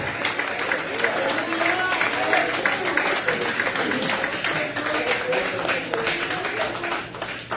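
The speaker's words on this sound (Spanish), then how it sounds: "Dale ese aplauso fuerte al Señor." A church congregation claps strongly during a Spanish-language sermon, producing a continuous patter of many hands that runs throughout, with a voice heard over the clapping.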